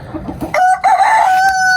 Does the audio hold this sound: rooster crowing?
yes